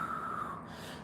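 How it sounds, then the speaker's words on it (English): Deep breathing during a stretching workout, a single close, steady breath drawn in and out with an airy, slightly nasal rush, heard alone with no talk. "Take a couple of deep breaths."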